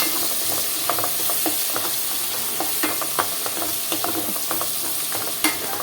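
Onions sizzle and fry in a pan for a prawn and gongura curry, a steady crackling hiss broken by frequent clinks and scrapes of a spoon stirring against the metal.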